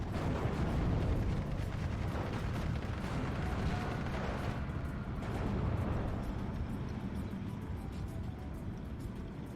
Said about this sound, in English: 17 pounder. Continuing fire.